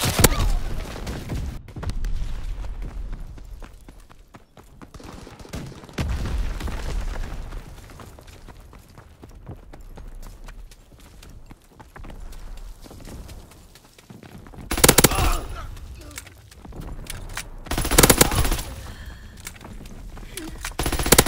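A WW2 video game battle with rapid machine-gun fire, rattling volleys and loud explosive bursts, nearby and sustained, easing into quieter stretches before heavy blasts return.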